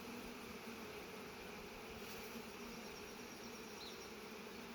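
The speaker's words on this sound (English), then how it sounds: "A lot of nurse bees on that frame." Honey bees, many of them nurse bees, crowd a hive frame and keep up a continuous, soft, close buzzing drone with no voices over it.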